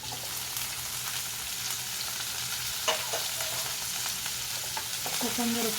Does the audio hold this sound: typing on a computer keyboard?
no